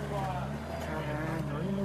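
A car engine runs loudly and steadily close by, its droning tone holding throughout the short stretch.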